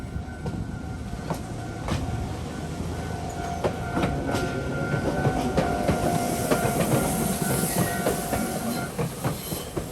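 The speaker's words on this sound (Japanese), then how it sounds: "ここまで連れてきてくれた列車をお見送り。" A local train pulls away from Yakuri station on the Shido line in Shikoku, with steady rumbling and rhythmic clickety-clack of wheels over rail joints, heard close and loud across the whole stretch.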